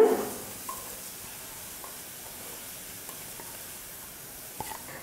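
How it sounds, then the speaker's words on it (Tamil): Ground coconut roasts in a hot kadai with a faint, steady hiss and a few soft scraping ticks, quiet and close, with no talk. "கடாய் நல்லா சூடேறினதுக்கப்புறமா அரைச்சி வச்சுருக்கிற அந்த தேங்காவை சேர்த்துக்க போகிறேன்"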